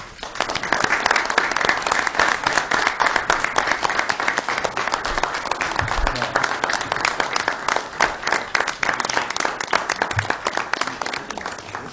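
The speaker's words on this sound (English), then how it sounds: "And I think we all owe Sam a round of applause." A room full of people at a joint committee meeting claps steadily, a dense, even wash of applause lasting throughout with no talking.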